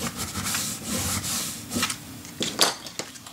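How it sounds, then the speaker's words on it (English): A tool is rubbed back and forth over glued paper in a craft mini album, making soft, close scraping strokes at an irregular pace. No voices are heard. "Open this up and burnish your glue down."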